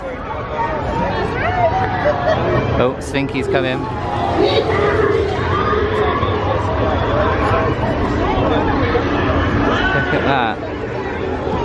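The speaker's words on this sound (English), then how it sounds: "Yeah, wow, look at the crowds" Busy crowd at Toy Story Land in a Florida Disney theme park, a dense steady hubbub of many voices close by, with nearby people talking over it.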